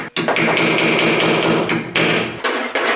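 A chisel is hammered against metal on an old 1962 AMC Rambler car. It gives a rapid series of loud, sharp metallic strikes, close up and nearly evenly spaced, followed by a few slower hits.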